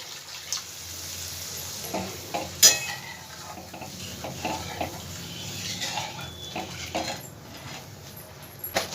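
Water poured into a pan of frying poppy-seed spice paste for a Bengali parshe fish curry, with clinking pots and utensils, stirring and a soft sizzle, close and fairly quiet, no talking.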